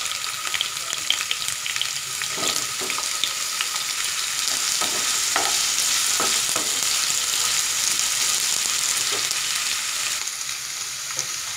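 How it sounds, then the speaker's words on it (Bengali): Cut potatoes fry in hot oil in a pan with onions for a Bengali-style mixed vegetable dry sabji, giving a steady, loud sizzle with a few soft stirring knocks and no talking. "আলুগুলো আমি 2 মিনিট মতো ভেজে নিয়েছি"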